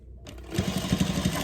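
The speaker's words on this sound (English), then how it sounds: "So you can just go ahead and run a stitch again" A sewing machine running a reinforcing stitch on a tote bag, close up: a short, fast, even needle rhythm of rapid thumps over a motor whine, starting after a brief quiet moment.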